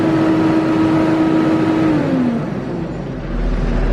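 Bulldozer pushing log trucks, its engine and variable speed fan running wide open in a loud, steady roar, with a whining tone that dips partway through and then settles back.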